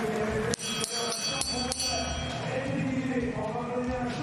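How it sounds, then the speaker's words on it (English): Lap bell at a women's track cycling elimination race in a Paris velodrome, rung in a quick series of sharp metallic strikes early on, then fading under crowd noise and arena ambience. "Bell rings again."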